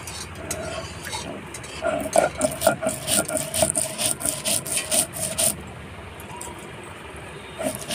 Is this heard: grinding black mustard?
yes